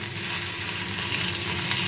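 A bhetki fish head fries in hot oil in a pan, giving a close, continuous sizzle and crackle with no voices.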